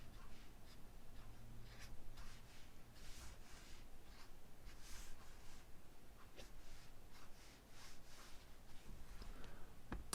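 A pencil draws thin lines on paper for a Venom Batman sketch, giving continuous close scratchy strokes in a steady rhythm with short pauses between strokes.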